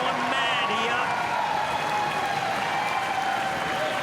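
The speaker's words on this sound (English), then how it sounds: "and the crowd have gone mad" Big stadium crowd at a basketball league final with the New Zealand Blackjacks playing, a broad continuous roar and clapping filling the arena while a commentator talks over it.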